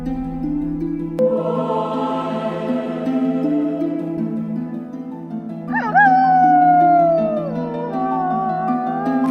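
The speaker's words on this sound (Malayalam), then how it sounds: "ചെന്നായ്ക്കൾ കമ്മ്യൂണിക്കേറ്റ് ചെയ്യുന്ന ഒരു മാർഗമാണ് ഓരിയിടൽ" A long, tonal howl rises and falls, joined midway by a second howling voice gliding downward, layered over a low sustained drone.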